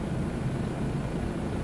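A Bell 407 helicopter in Microsoft Flight Simulator 2024 gives a steady, loud low rotor and engine drone, continuous and even throughout with no talk.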